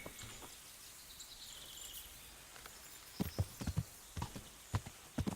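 Horse hooves clip-clop in the Kingdom Come: Deliverance video game, a burst of several close, sharp hoof strikes arriving after a quiet ambient stretch with faint birdsong, no voices over them.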